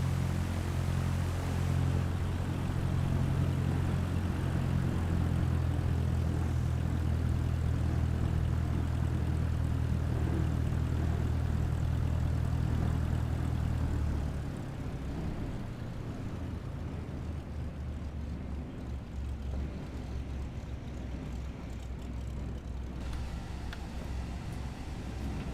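A propeller airplane taxis on a runway in Flight Simulator 2020, with a steady low engine drone at close range. Partway through the drone drops to a quieter, thinner rumble.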